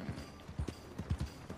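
Horse hooves clip-clop at a steady riding pace in Red Dead Redemption 2, a series of close, fairly loud paired hoofbeats with no talk over them.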